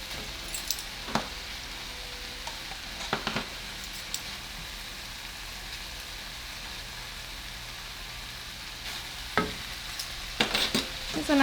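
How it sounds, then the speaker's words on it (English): Browned ground beef being stirred with two tablespoons of tomato paste in a pan, a low steady sizzle with a few sharp utensil clicks and scrapes scattered through, fairly quiet and close, no voices. "So now just mix it together with your meat."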